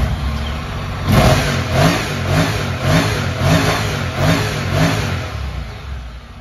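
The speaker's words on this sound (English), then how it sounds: "Fantastic parallel sounding twin bike with a fantastic sound, really, really nice to ride." A Honda NC750X parallel-twin motorcycle engine starts up and revs in a series of repeated throttle blips, loud and close, with a steady rumbling idle between the rises.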